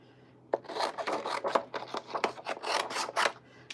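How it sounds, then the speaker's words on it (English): A craft die cuts paper for scrapbooking, heard as close, brisk rasping and scraping strokes in quick irregular succession for a few seconds. "So I'm going to run over here and cut this with this die."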